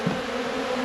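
Honey bees buzz around a weak hive during a robbing event, a brief steady droning hum close by.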